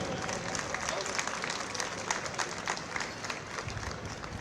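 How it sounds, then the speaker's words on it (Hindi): Distant applause from a large stadium audience at an outdoor Republic Day state ceremony, a diffuse wash of clapping blurred by open-air echo and crowd noise, faint and steady. "ऐसे दीप्त कलशों के सम्मान में तालियां बजाकर उत्साहवर्धन करें।"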